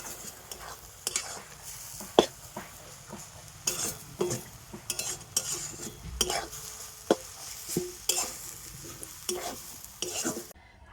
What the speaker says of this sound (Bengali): এবারে দুধের সাথে সিমাইটাকে কিন্তু খুব ভালো করে এইভাবে মিশিয়ে নিতে হবে